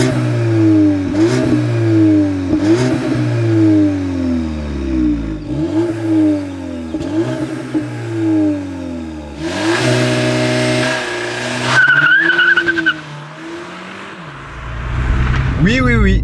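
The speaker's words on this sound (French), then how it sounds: "comme il faut désactiver l'anti-patinage pour le mettre en route et que c'est une traction, ça patine un petit peu" A 2022 VW Polo GTI with 207 hp and front-wheel drive makes a hard launch-control start with traction control off and slight wheelspin. Close, loud engine revs climb repeatedly through quick gear changes, then a burst of rising revs follows.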